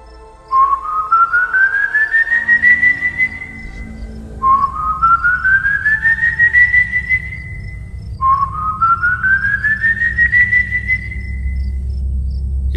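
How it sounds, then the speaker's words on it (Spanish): An eerie, drawn-out whistle from far off, the whistling ghost of a horror legend, rises three times in slow upward-sliding calls separated by pauses, over a low, steady rumble. "aquel mismo silbido comenzó a sonar a lo lejos de la casa"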